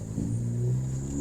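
A Ford Focus ST with a freshly replaced transmission accelerates, its engine note rising briefly and then steadying in a short, fairly faint burst heard from inside the car.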